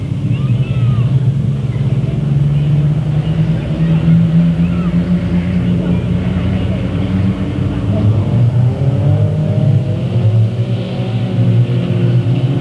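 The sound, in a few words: race cars racing at Delta Speedway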